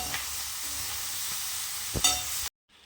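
Capsicum and green chillies sautéing in hot oil with chilli powder, coriander powder and turmeric: a steady close hiss of frying, a couple of stirring knocks near the end, then it cuts off abruptly.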